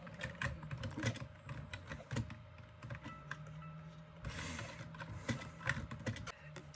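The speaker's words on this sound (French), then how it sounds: "Si vous entendez aussi le bruit du clavier, c'est un peu logique" Rapid computer keyboard typing with uneven clusters of sharp key clicks and a few heavier strokes, close and fairly quiet over a faint background hum from game audio, with no one talking.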